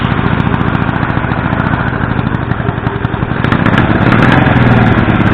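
Small engine on a Mini Hog mini bike running loudly during carburetor adjustment, a steady close buzzing idle that grows slightly rougher and fuller partway through.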